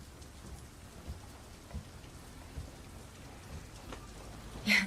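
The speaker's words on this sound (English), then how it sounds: "Yeah, it's raining." Steady rain falls continuously, a soft hiss of drops on surfaces with faint patters, fairly quiet and even throughout.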